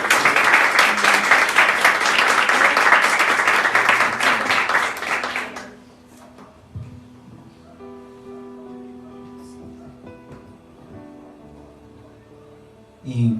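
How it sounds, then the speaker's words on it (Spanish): Loud, dense applause from a church congregation during a sermon fills the first six seconds, then cuts off to a quiet room with faint scattered sounds. "Denle un fuerte aplauso al Señor"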